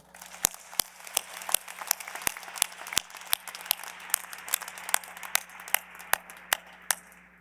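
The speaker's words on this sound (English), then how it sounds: "Graduates, please join me in applauding and thanking them for all they've done for you." Sparse, scattered hand claps from an audience at a Georgia Tech engineering master's commencement, individual sharp claps spaced irregularly over a quiet hall with a low electrical hum.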